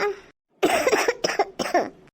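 A brief soft sound is followed by a close, hoarse cough in three harsh bursts, the last trailing off.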